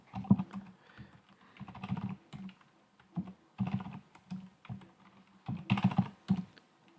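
Keys tapped on a computer keyboard while numbers are entered into a color table editor, arriving in short irregular bursts of close, crisp clicks separated by brief pauses.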